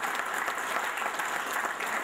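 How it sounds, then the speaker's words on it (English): Warm audience applause at a community chest mayor's golf outing, honoring people who serve the country; steady, moderately distant clapping throughout, with no talk. "Please applaud them now"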